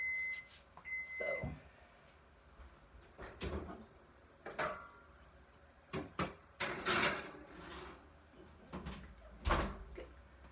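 Kitchen oven door opening and closing as a meatloaf goes in, with clunks, rattles and a short beep spread over several seconds in a quiet home kitchen.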